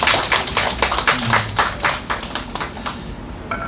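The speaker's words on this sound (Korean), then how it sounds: "박수." A congregation claps at a free noon worship service in a tent chapel in a Korean shantytown, a short burst of close, fairly loud rhythmic hand claps that thins out toward the end.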